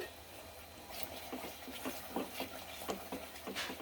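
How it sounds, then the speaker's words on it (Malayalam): A spoon stirs butter chicken masala in a pan with soft, irregular scraping and tapping strokes, faint and close, over a quiet kitchen background. "ഇതിങ്ങനെ ഇളക്കി ഇങ്ങനെ ഇട്ട് കൊടുത്തുകൊണ്ടേ ഇരിക്കണം."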